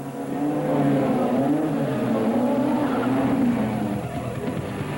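Formula 1 race cars roar around the track in a continuous, loud engine drone that rises and falls slightly, with no voices over it.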